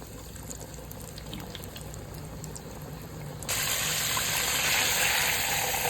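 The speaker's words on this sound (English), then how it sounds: "I'm gonna put this in the fryer" Chicken pieces, four at a time, frying in oil in a deep fryer set to 365 degrees, a steady close hiss and sizzle that swells suddenly louder and brighter partway through and stays loud.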